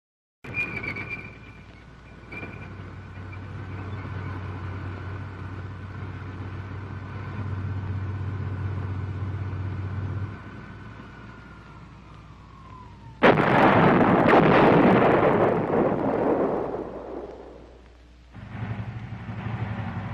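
An M728 combat engineer vehicle fires its gun in archival footage: a long rumbling engine drone, then one loud, sudden blast with a rolling decay, and the engine rumble returning afterward.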